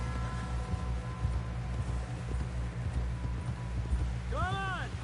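Horse hooves clip-clop steadily in Red Dead Redemption, a rhythmic trot running under a constant low rumble, with a brief whinny-like rising call near the end.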